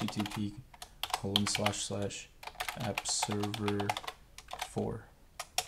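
Computer keyboard typing in short bursts while someone speaks over it, entering a web address into a browser on a workstation, close and moderately loud.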